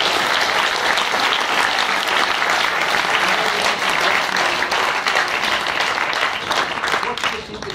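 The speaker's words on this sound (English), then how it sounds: "Let's give them a big round of applause." Dense audience applause fills a tribute to graduates of the Dulaang Sibol theatre group. The clapping stays loud and steady throughout, with crowd noise mixed in, and tapers slightly at the end.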